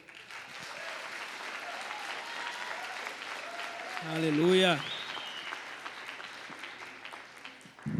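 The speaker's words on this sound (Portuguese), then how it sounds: "Aplauda ao Senhor." A church congregation applauds together during a worship conference, a steady wash of clapping with a swelling cheer in the middle and a voice calling out over it.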